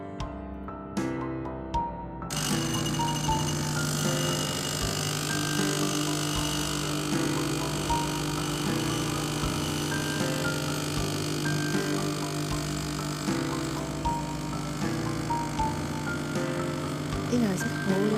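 An espresso-style coffee machine runs while brewing Thai milk tea with gold tea leaves, opening with a few sharp clicks before a steady, loud mechanical pump hum with whining tones that continues unbroken to the end.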